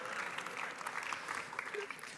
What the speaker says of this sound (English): I think they should give themselves an applause